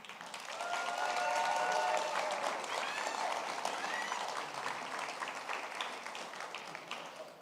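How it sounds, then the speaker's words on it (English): Sustained audience applause for a graduating leadership-institute cohort at a demo day, a dense wash of many hands clapping fairly faintly, with a few scattered cheers, building then slowly tapering. "please give another round of applause for the cohort number 2 for Frontera Leadership Institute"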